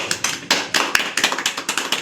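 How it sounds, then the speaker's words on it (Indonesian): A small group in a classroom gives brief, scattered applause, a quick run of close, uneven claps about two seconds long. "Boleh aplaus buat kita semua."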